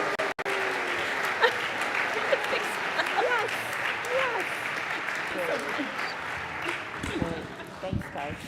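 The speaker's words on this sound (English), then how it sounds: "We could cheer for Cyrus and his parents." Church congregation at a Sunday holiday pageant service applauding and cheering, a moderate, steady wash of clapping with scattered voices and a few whoops rising near the end.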